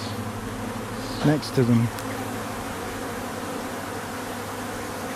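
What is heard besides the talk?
Buckfast honey bees buzzing at hive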